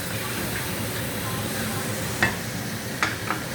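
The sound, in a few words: food sizzling while frying in a pan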